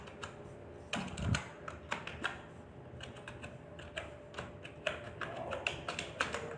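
Fingers type on a computer keyboard in irregular bursts of crisp clicks and taps, close and fairly quiet, with short pauses between runs of keystrokes.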